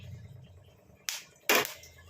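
Whole green cardamom, cloves and broken cinnamon crackle in hot oil, giving two sharp, close sizzling pops over a quiet, low background hum.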